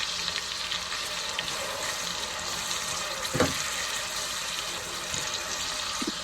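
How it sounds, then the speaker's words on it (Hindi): Two medium tomatoes fry with masala in a pan for chana mash daal, a steady close sizzle and crackle with a few stirring scrapes and knocks. "टमाटर को भी आप हल्का सा भून लीजिए"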